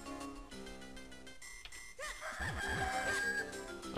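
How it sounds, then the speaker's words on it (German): Chicken clucks and crows from the Zelda game The Minish Cap ring out in the latter half over bright chiptune-style game music. "So, jetzt haben wir zwei Hühner gefangen."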